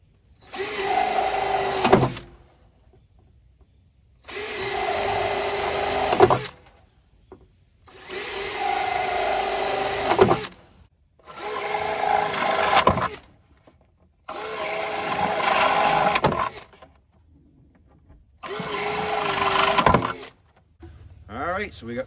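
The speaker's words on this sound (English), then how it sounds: "So let's drill those holes" A power drill runs in six separate bursts of about two to three seconds each, whining steadily while boring holes in a sump pit, with short quiet pauses between holes.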